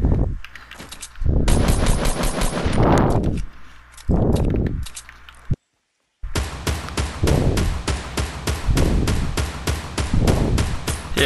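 Rapid automatic gunfire from the video game Fortnite comes in long, dense bursts of sharp shots, loud and close, with one brief silent gap before another sustained stream of rounds.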